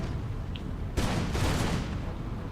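Artillery barrage in a war strategy game, a dense rumbling volley of distant booms that swells abruptly near the midpoint and rolls on as sustained, heavy fire.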